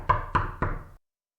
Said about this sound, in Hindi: फिर किसी ने तेजी से दरवाजे पर दस्तक दी।